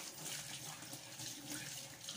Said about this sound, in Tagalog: and then hugasan po natin